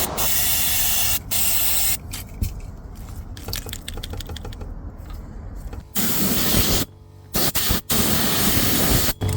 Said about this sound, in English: All we're going to do is give this the contact cleaner spray and a good hosing with the air line.